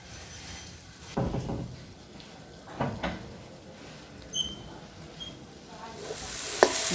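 Duck meat cooking with spices in a pan for a spicy dish makes a steady, moderate sizzle, punctuated by a few soft clatters and knocks near the end.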